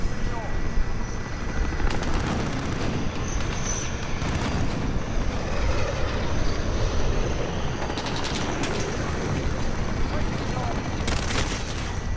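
A VTOL aircraft in Call of Duty: Modern Warfare holds a loud, steady engine roar throughout, with bursts of gunfire cracking over it now and then.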